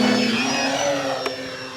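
An E-flite Beechcraft D18 1.5 m RC plane takes off without flaps, its motors giving a steady nearby whine that shifts slightly in pitch as it climbs away.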